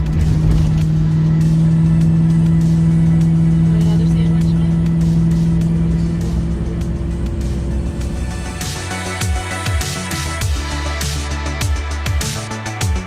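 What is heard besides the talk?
car driving off on the road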